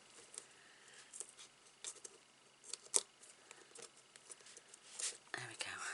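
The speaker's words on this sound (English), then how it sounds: "I'm still going to snip it off" Quiet, close snips of scissors cutting cardboard on a paper album page, a few sharp isolated cuts with soft handling rustles in between.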